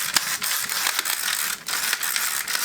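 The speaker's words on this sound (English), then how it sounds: "in case you're interested in the grinder, there will be a link in my Amazon link down there where you can order you one" A ratchet-style salt and pepper grinder cranks over a plate of Tex-Mex bacon fried rice, giving rapid, close clicking bursts in an uneven rhythm for under three seconds.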